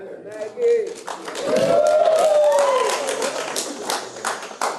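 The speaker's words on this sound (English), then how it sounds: "No clapping, please." Audience clapping at a public meeting on a county budget, a burst of many hands clapping under a prominent voice that speaks over it, fading as the talk continues.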